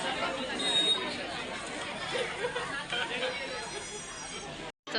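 Busy sari shop packed with Diwali shoppers, a steady hubbub of many overlapping voices chattering close by, continuous throughout with a brief cut near the end.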